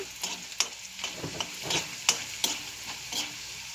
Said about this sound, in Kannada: ಬೆಳ್ಳುಳ್ಳಿ ಹಾಕ್ಕೊಳ್ತೀನಿ, ಕಡಲೆಬೇಳೆ ಹಾಕ್ಕೊಳ್ತೀನಿ. ಈಗ ಒಂದ್ಸರಿ ಎಲ್ಲ ಇದನ್ನು ಫ್ರೈ ಮಾಡ್ಕೊಳ್ಳೋಣ.